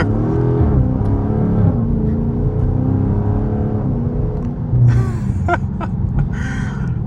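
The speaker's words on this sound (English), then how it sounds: "Immediately start spinning the tires." A 2023 Dodge Charger Scat Pack with a ZF 8-speed automatic pulls away hard from idle, its engine droning loud and steady while the tires spin, with a brief surge of hiss and squeal partway through.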